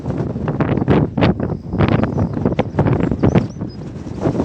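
Wind blows hard across a hillside in a Black Sea village, buffeting the microphone in loud, irregular gusts that rise and fall over a few seconds, with no talking.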